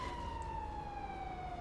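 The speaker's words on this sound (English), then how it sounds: "Austin, your siren's on" A police-style vehicle siren left switched on in a video game, a steady wailing tone that drifts slightly downward and holds throughout at a moderate, constant level.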